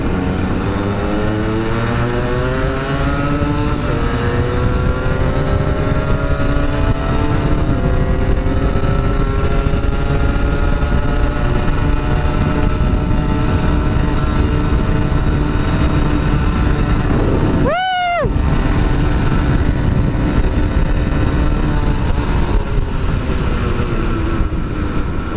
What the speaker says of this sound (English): Ini seru banget main riding walaupun cuma berapa motor ini? 6 motor aja udah seru banget.